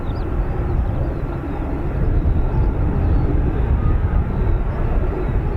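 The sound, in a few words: F-35B stealth jet taxiing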